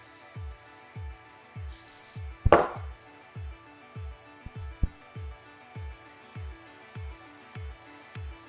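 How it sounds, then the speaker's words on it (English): Knife chopping half a shallot and three cloves of garlic on a board, a steady run of about fifteen evenly spaced, close thuds, with a brief clatter partway through. "I got half a shallot chopped up and then 3 cloves of garlic that are chopped"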